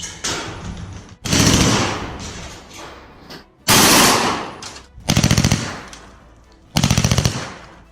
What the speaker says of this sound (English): There's videos in 2022 with a machine gun mounted on it, and it was taking shots.